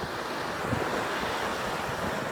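Sea waves wash steadily onto the shore at Yalıkavak, a continuous broadband surf roar mixed with wind buffeting the microphone, loud and close with no voices.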